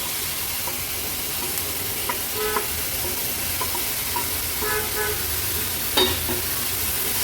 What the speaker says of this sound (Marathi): व्यवस्थित परतून घ्यायची आहे कांद्यासोबत